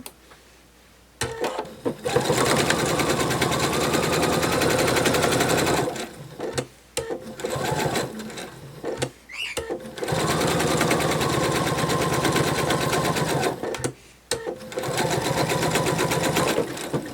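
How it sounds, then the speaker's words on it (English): Sewing machine stitching around fabric fins of a narwhal plush in long continuous bursts of rapid stitching, separated by brief pauses, fairly close and loud with no talking. "I'm going to go ahead and sew around these fins"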